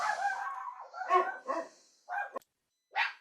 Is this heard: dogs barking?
yes